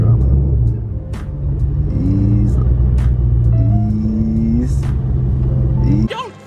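Ford Mustang Cobra engine holds a steady low rumble while the car pulls away under gentle throttle, with rising pitch sweeps as it gains speed, heard from inside the cabin and ending with a brief clunk.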